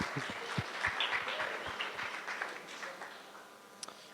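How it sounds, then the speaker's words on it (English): Audience applause at a cannabis longevity event in New York, a moderate, steady patter of clapping that thins out toward the end, with no talking over it. "So round of applause. Round of applause."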